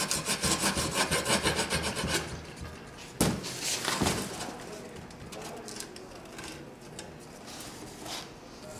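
Grip tape torn and rasped along the sharp edge of a scooter deck, a rough scraping rub that starts busy and loud, then thins into scattered scratches with a couple of sharp knocks midway.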